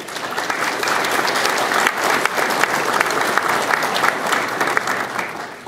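Sustained applause from a conference audience at a student liberty gathering, steady and dense for several seconds with a brief dip near the two-second mark, no voices over it.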